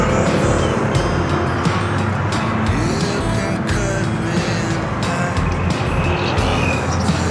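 Dense road traffic of many motorbikes and cars, a steady loud rumble of engines with passing vehicles close by and no break in the flow.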